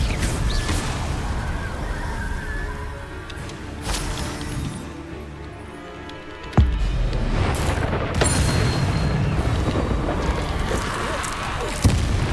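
Loud booming Confringo spell blasts in Hogwarts Legacy, with sharp impacts cutting through a dense, continuous layer of battle and game sound, one especially heavy hit standing out midway.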